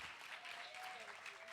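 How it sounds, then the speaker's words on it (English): A magic show audience gives a round of applause, dense steady clapping from a crowd filling the short moment at even loudness. "A big round of applause."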